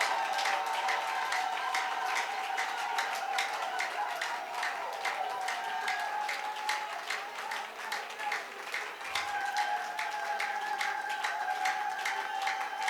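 A church congregation applauds and cheers at a French-language revival service, dense rapid clapping sustained for several seconds with voices mixed in, steady and close.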